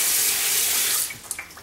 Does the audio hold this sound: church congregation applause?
no